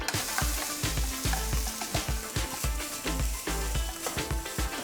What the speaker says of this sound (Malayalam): ഇത് മൂത്തതിന് ശേഷം നമുക്ക് അരച്ച് വെച്ചിരിക്കുന്ന അരപ്പിട്ട് കൊടുക്കാം.